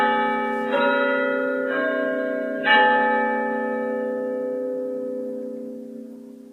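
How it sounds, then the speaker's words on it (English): A clock strikes loud, ringing chimes indoors, three separate bell-like strokes each leaving a long sustained harmonic tone that slowly decays. "I think the clock's going to go off"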